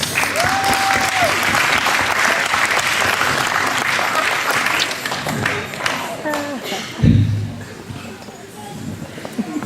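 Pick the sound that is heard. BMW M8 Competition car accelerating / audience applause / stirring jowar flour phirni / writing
audience applause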